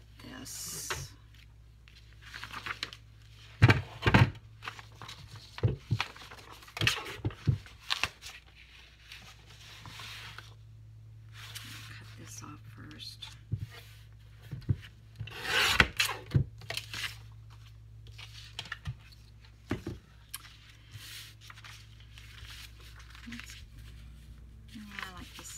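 Scissors cut paper flower tops for a poppy-themed junk journal, giving irregular crisp snips and rustles at close range over a steady low hum, with soft handling noises in between.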